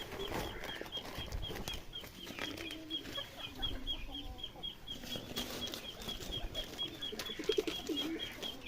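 Pigeons at a loft where newly hatched squabs are kept, with wings flapping and soft coos and clucks close by, continuing steadily with no talking.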